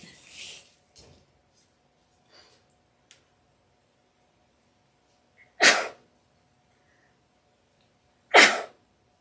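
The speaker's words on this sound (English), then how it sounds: "I did sneeze into my elbow" Two sharp sneezes burst out several seconds apart, close and loud, after some faint rustling and quiet breaths.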